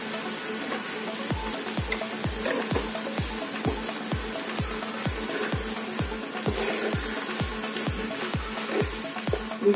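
Paneer pav bhaji mixture sizzles in a hot pan while a spoon or masher strikes and stirs it in a steady rhythm of about twenty close taps over a constant frying hiss.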